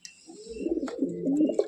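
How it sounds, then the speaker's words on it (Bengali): Several large pigeons, including a red male and a Saharanpuri male, coo together in a low rolling murmur, steady and close, with faint higher chirps over it and no talk. "বড় সাইজের কবুতর।"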